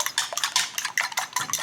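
Egg wash for lumpia is beaten in a bowl, a quick run of close clinking and tapping strokes of utensil against bowl in an uneven rhythm, with no voices.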